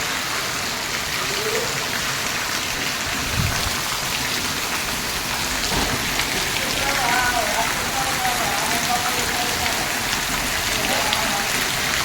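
Heavy rain pours down in a dense, unbroken hiss, drumming on surfaces nearby, with a voice briefly heard under it.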